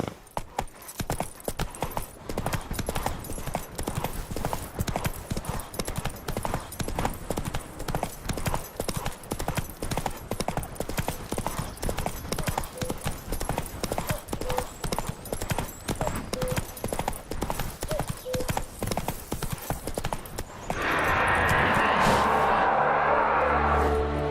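Horse hooves clip-clop in a steady, continuous rhythm for about twenty seconds in The Witcher 3 video game, close and prominent, then give way to a brighter, denser noise near the end.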